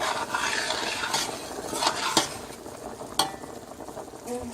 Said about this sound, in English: once you put the noodles in, you have to keep stirring it because it will stick to the bottom